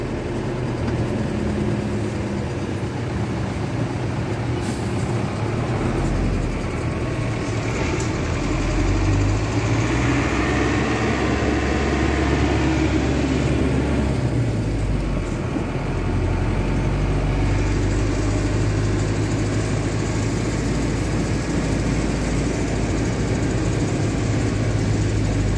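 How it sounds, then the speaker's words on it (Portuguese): A motorcycle passes along a city street in morning traffic, a steady low engine rumble that swells louder in the middle and then eases off, with other traffic noise around it. "moto vem por ali."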